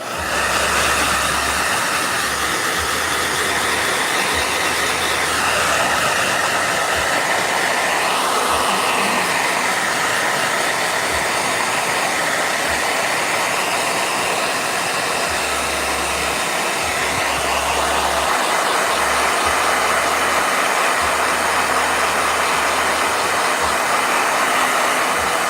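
A blow dryer runs loud and steady for the whole stretch while a painting is worked on, its constant whooshing roar close by with no other sounds breaking through.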